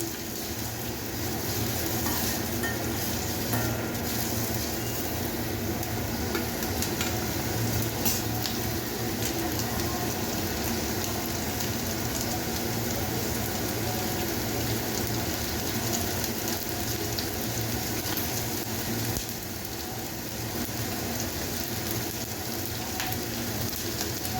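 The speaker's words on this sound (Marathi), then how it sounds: "आपल्याला अशा प्रकारे परतून घ्यायचे आहे।" Ginger and other ingredients sautéing in a pan for dum aloo gravy, a steady continuous sizzle resembling rain throughout, even and moderately loud, with no talking.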